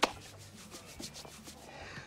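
A hand rubs a knee vigorously to warm it, a soft rapid back-and-forth friction swish repeating quickly and close, starting with a small thump and continuing alone without talk.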